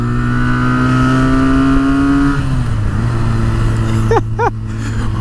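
A Benelli 302 motorcycle engine revs hard toward high rpm, its loud rising tone climbing steadily, then dropping as it shifts and pulls again, heard up close with wind rush.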